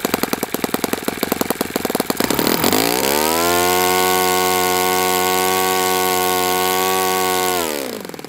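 An Enya 46-4C four-stroke model airplane engine, running on a low-humidity day, pops rapidly at low throttle, then smoothly revs up to a loud, steady high-pitched drone and eases off at the end.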